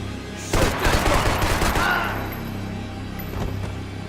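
A rapid burst of automatic gunfire in the video game Max Payne 3 fires close and loud for over a second, then fades into a dull rumble with a faint later shot.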